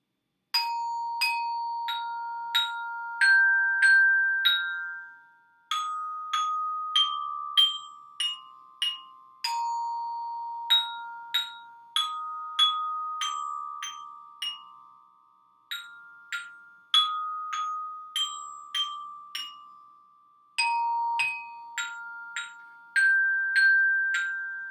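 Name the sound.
glockenspiel (practice bell kit) being played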